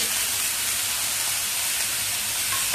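Tomatoes hit browned onions in a hot pan, giving a loud, steady, close hissing sizzle that runs unbroken throughout.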